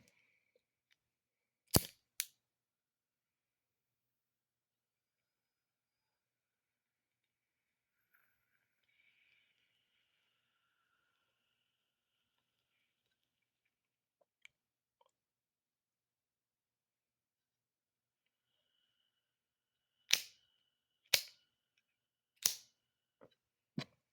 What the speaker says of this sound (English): It's like a gunshot. Stamp lighter.